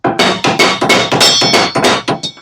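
Hammer gently tapping a spindle bolt on the mower deck of a Bad Boy zero-turn lawn mower, about ten firm metallic knocks in a steady rhythm, close and loud, with no talking.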